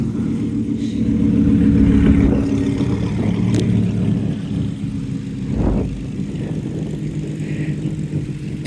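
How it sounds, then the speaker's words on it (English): A deep, throaty Maserati Ghibli engine with a Fabspeed performance exhaust drones nearby, swelling in a rev and then easing back to a steady rumble, with no voices over it. "You gotta hear my fab speed exhaust."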